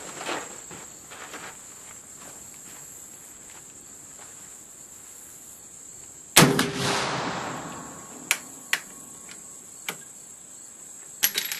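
Single rifle shot from a .50-70 firing a reload with Swiss 1 1/2 black powder, one sharp loud crack followed by a short decaying echo over a quiet outdoor background of insects, with a few fainter knocks afterward.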